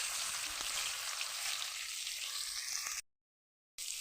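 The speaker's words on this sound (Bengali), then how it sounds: "সেই আলুটা আমি একটু ভেজে নেব তেলের পরে।" Boiled potato pieces fry in hot oil for a Bangladeshi-style tengra fish curry, giving a steady, close hiss of sizzling for about three seconds before a brief silent gap, then the frying resumes.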